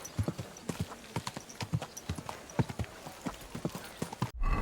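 Horse hooves clip-clopping in a steady, brisk rhythm while riding in Kingdom Come: Deliverance II, close and fairly loud, ending abruptly with a brief change in sound.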